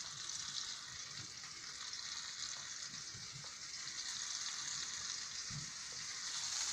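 Turkey pieces fry in a really hot pan, giving a steady, even sizzle throughout with faint clinks and stirring knocks underneath, and no one talking.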